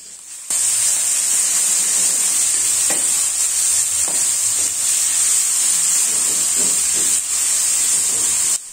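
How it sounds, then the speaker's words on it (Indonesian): Ground spice paste sizzles in a little hot oil, a loud steady hiss that starts abruptly and continues with faint stirring scrapes before cutting off. "saya tumis bumbu yang sudah dihaluskan dengan sedikit minyak ya"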